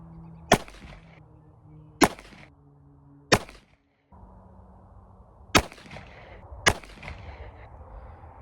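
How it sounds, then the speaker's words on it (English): Five sharp gunshots from an NAA Sidewinder .22 Magnum mini revolver crack out at an outdoor range, spaced about one to two seconds apart, with quiet between them and no talking. "we're gonna shoot 5 shots on the target"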